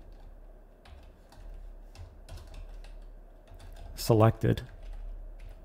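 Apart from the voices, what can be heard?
typing code on a computer keyboard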